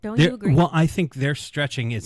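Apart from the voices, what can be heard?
No everyday noise stands out behind the speech.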